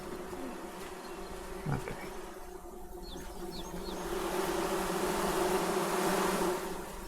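Bees in the Among Trees video game give off a steady, loud buzzing drone that swells over the second half. One brief spoken word comes early.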